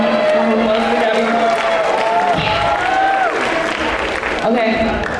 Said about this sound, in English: Let's give a round of applause for Gabby.